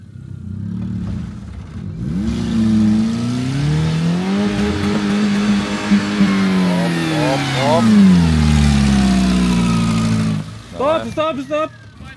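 A Renault Twingo pulls away, its engine revving up through a gear and settling into a steady, close drone for several seconds, with people's voices briefly heard at the end.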